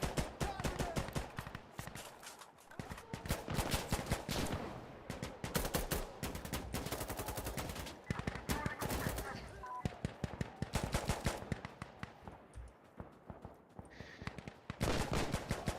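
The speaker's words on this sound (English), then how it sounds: "I don't know where some of these shots are coming from." Rapid gunfire in a PvP video game, with dense bursts of automatic shots and single cracks, some loud and close and others more distant, rattling almost nonstop over the whole stretch with only brief lulls.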